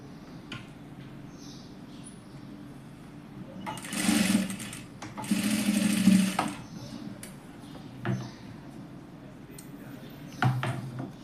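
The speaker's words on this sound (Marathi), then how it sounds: "हे असे दोन्ही पास स्टिच झालेत. चेन लावून लॉक केलं." Sewing machine stitching a chain onto fabric, running in two short bursts of steady motor whir with brief quieter pauses between, close and alone.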